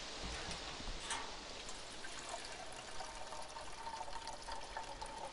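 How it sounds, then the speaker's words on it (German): Fuel poured from a jerrycan into a vehicle in the video game DayZ, a steady, continuous liquid gurgle and trickle at moderate level with no breaks, heard alone. "Ich tank mal."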